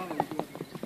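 Horse hooves clip-clop in a quick, even series of soft beats as the horse is ridden, faint and brief.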